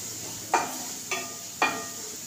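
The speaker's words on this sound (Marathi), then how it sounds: "आपल्याला मोठ्याच गॅसवर आपल्याला हे परतून घ्यायचं. कांदा, टोमॅटो" Onion and tomato sautéed over a high gas flame for a sweet corn snack: a steady sizzle runs throughout, broken by three evenly spaced, sharp stirring scrapes.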